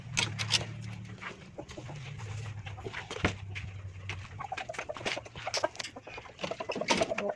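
Pet chickens clucking close by at feeding time, with short irregular bursts of clucks and calls over a low background hum, some louder clucks near the end.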